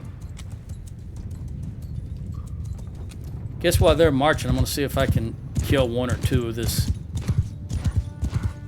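Horse archers gallop across a Mount & Blade II Bannerlord battlefield, rhythmic clip-clop of hooves running underneath someone talking over the action, with a faint whinny.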